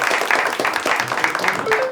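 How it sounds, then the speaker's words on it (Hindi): An audience claps together for a guest on a studio comedy show, a steady run of dense, fairly loud clapping over about two seconds, with voices mixed in. "सॉरी अंकुश के लिए तालियां बजा दीजिए सब लोग"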